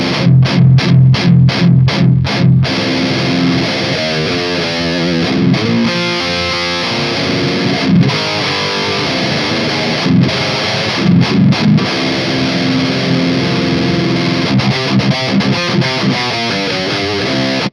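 A distorted electric guitar roars through a Marshall Valvestate amp with the highs filtered off, loud and continuous, opening with a run of hard rhythmic chugs and then ringing chords and riffs, some clipped by sharp stops.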